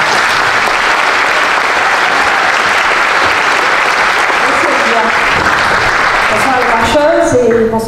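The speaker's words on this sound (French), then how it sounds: "Je vous remercie d'applaudir très fort Linda Abba." Loud, sustained applause from a large audience at a Paris municipal election campaign rally fills the whole stretch, with a voice starting to speak over it in French near the end.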